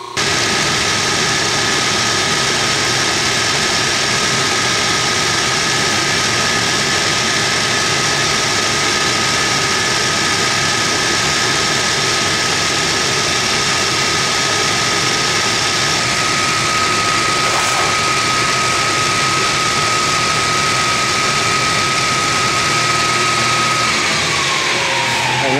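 A Clausing milling machine runs an end mill through the final pass of a square keyseat, a loud, steady motor drone with a thin whine that holds throughout and then drops away near the end.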